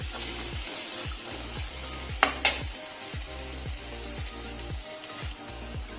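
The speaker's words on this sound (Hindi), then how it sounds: "इसी में अब हम मटर और दही दोनों डाल देते हैं, ताकि मटर भी पकता रहेगा और दही भी अच्छी तरह से भून जाएगा।" Peas and yogurt sizzling in a pan of masala, a steady soft frying hiss with rhythmic stirring scrapes repeating about twice a second and a couple of brief clinks, no voices.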